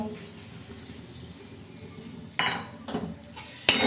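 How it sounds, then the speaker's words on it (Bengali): Spoon stirring potatoes with poppy seed paste in a pan, a low scraping hiss followed by a few sharper clinks and scrapes of utensil against metal, close and moderately loud. "পোস্ত পাটাটা দিয়ে আমি আলুটার সাথে খুব ভালোভাবে নেড়ে চেড়ে মিশিয়ে নিচ্ছি"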